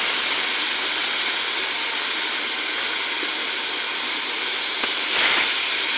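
Raw jackfruit, potato and onion hit hot fried spices in a pan, giving a steady, loud hissing sizzle that holds evenly throughout with no talking.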